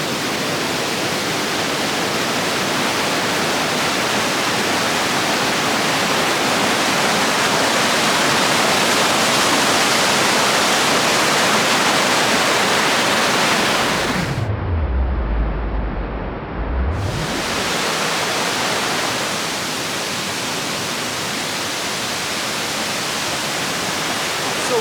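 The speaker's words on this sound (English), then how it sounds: "They have this pool, and then you see it flowing, and it goes down." Powerful river water from an underground spring and waterfalls in Jamaica roar steadily as a dense, loud rush of broadband noise that drops out briefly partway through.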